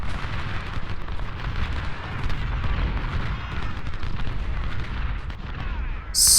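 Massed rifle volleys and battle din from Ultimate General: Civil War at Malvern Hill roar continuously, a dense, loud wash of overlapping gunfire and rumbling explosions with a sharp burst near the end.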